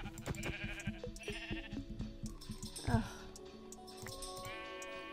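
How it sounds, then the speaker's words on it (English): Sheep bleat in the Minecraft video game amid clicky game sounds and a voice, with a wavering bleat rising in the middle and tonal game effects near the end. "We're gonna kill some sheep too."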